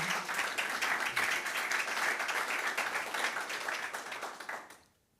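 Audience applause at a Neos Con 2024 conference after a live coding talk on asynchronous PHP: steady, dense clapping from a crowd that holds for about five seconds, then fades quickly to silence.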